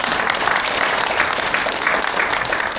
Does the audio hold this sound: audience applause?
yes